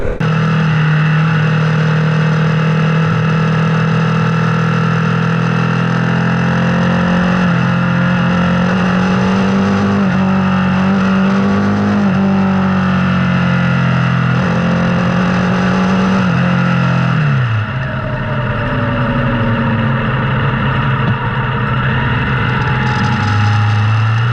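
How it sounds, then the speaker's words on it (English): A Harley-Davidson Pan America 1250 S motorcycle ridden on a street, its engine a loud, steady rumble that climbs and falls through gear changes, with a drop in pitch as it slows near the end. "even on the streets, this bike is super fun to ride"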